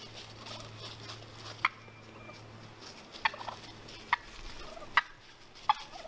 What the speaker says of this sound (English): These turkeys are battling.